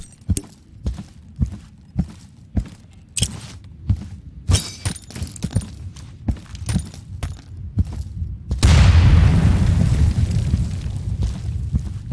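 A grenade rolled under a wooden fence in the Insurgency shooter: a string of sharp single shots and thuds, then a loud, close explosion with a long rumbling tail.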